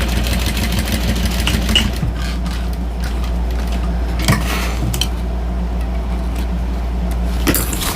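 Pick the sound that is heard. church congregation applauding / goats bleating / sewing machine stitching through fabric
sewing machine stitching through fabric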